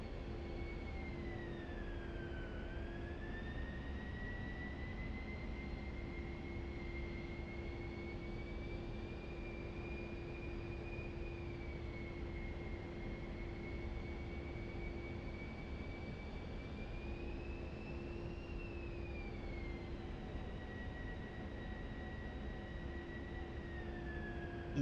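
A simulated A-10C jet on final approach for landing in a flight simulator game, with a steady engine drone and a high whine that slowly rises and falls in pitch.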